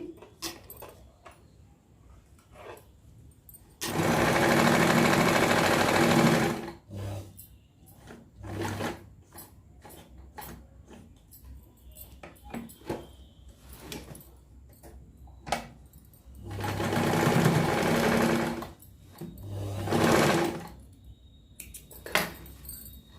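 A sewing machine stitches a blouse in two sustained whirring runs of about three seconds each and a shorter third burst. Between runs come clicks and handling noises up close, with no talking.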